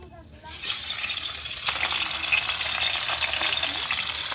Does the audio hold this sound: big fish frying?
yes